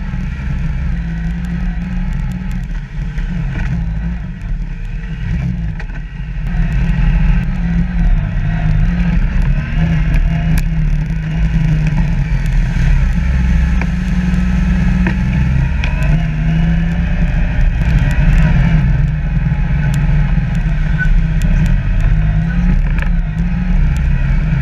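Yamaha YXZ1000R SS SE side-by-side engine running steadily on a rocky off-road trail at Walker Valley, a loud continuous drone that rises in revs after a brief dip, close and unbroken throughout.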